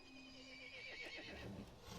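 A horse whinnies and neighs in the video game Resident Evil Village, a shrill, wavering call with faint hoof clatter, fairly quiet and alone.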